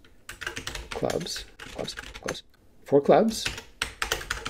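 Typing on a computer keyboard with quick clustered key clicks, mostly under a man's speech, with a short break in the middle.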